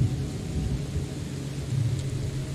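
Rain and low rolling thunder in The Sinking City video game, a steady dense wash of falling rain over a deep continuous rumble, fairly loud and without voices.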